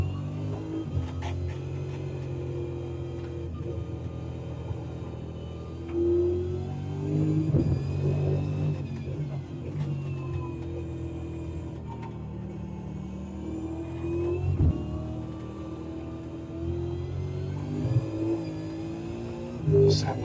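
The V8 Supercar engine from iRacing's Nürburgring race drones steadily and rises through repeated hard-throttle revs with gear-change dips, loud and close, while a voice speaks lightly over it.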